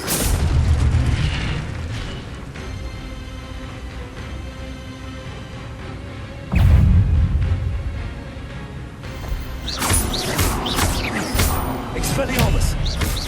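Spell-casting effects from the Hogwarts Legacy video game, booming bursts and whooshing impacts as Expelliarmus is cast, loud against steady game ambience, with a voice shouting over the action.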